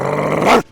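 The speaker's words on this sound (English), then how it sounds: "Apollo finally gave the reflection a good loud bark." A dog gives one short, loud bark with a growling edge that cuts off abruptly.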